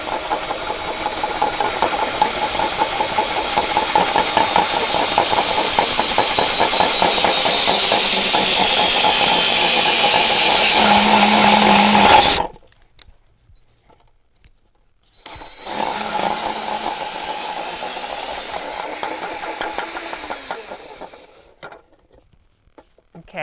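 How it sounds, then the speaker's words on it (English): A power drill bores into the side of a hay bale on a Southern Ohio farm, giving a loud, steady motor drone for about twelve seconds, then a short silence, then a second long burst. "now we're going to start drilling into it"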